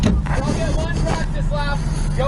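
Someone's drift car idling and rolling on a competition practice lap, a steady close engine drone filling the cabin while voices talk over it.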